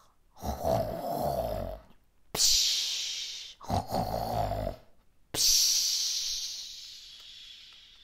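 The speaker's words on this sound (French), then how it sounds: "entend les ronflements" Loud, close snoring in a slow rhythm, each rasping inhale followed by a breathy, hissing exhale, repeated several times with nothing else.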